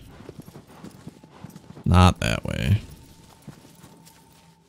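Horse hooves clip-clop in Shadow of the Colossus, with a quick burst of close, loud steps in the middle over quieter ambient footfalls, while someone speaks briefly.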